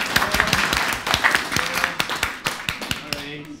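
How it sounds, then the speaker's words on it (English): Wild applause from a conference audience at a social media event, steady clapping filling the clip with talk mixed in underneath. "If we could all cue wild applause."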